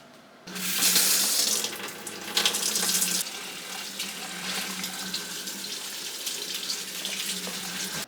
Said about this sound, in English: So I'm gonna take them to the kitchen sink, and we're gonna give them a nice bath.